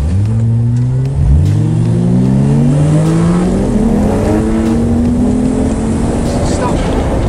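A Toyota Supra MkIV with a 1JZ-GTE engine and automatic gearbox pulls hard on a closed road, its engine note climbing loudly through repeated rising sweeps as it shifts up, close and continuous.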